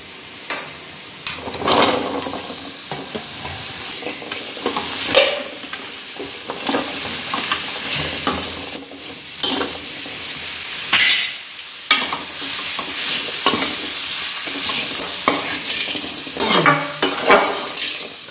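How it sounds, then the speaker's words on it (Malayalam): Rose apple pieces sauté with vinegar in a pan for pickle, giving a steady sizzle with repeated stirring scrapes and clinks of a spoon against the pan, close and continuous with no talk. "അതിൻ്റെ ആ പച്ചമണം ഒന്ന് മാറുന്നിടം വരെ നമുക്കിതൊന്ന് വഴറ്റാം"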